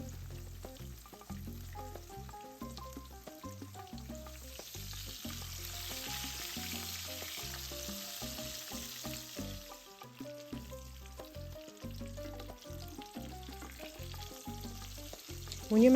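Breaded chicken cutlets frying in oil give a steady, close sizzle throughout, running under continuous music with a plucked, stepping melody.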